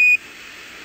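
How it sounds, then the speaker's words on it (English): Apollo 11 lunar module 1201 program alarm sounds as a brief, sharp electronic beep tone that cuts off abruptly, followed by faint radio hiss. "Roger, 1201 alarm."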